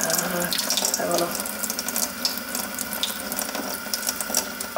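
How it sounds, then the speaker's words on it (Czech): A tap runs at a medium, lukewarm stream into a sink, a steady close hiss and splash of water that continues throughout without talk. "Pustíme vodu, důležité je, aby ta voda nebyla horká a bude to takový střední proud."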